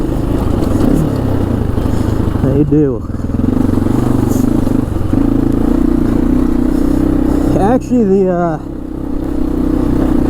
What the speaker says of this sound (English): These dual overhead cam single cylinder engines do like to rev.